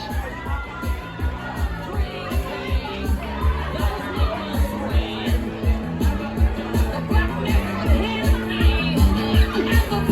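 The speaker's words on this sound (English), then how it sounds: "Make some noise for our second round of contestants" A crowd at a children's Halloween costume contest cheers and shouts for toddler contestants, with loud excited voices and children's shrieks over rhythmic thumping music, swelling steadily toward the end.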